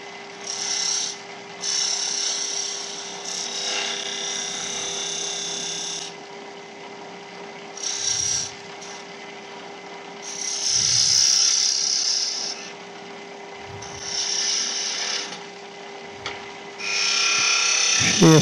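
A spindle gouge rolls across a small piece of wood turning on a lathe, giving intermittent scraping cuts in short bursts over the constant hum of the spinning machine.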